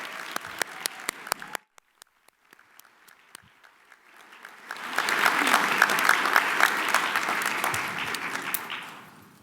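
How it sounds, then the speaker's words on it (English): At an academic investiture ceremony honoring endowed chairholders, a few sharp claps die away, then a large audience swells into steady, full applause that holds before tapering at the end. "And let's have a round of applause again for all of the chairholders that we've honored today."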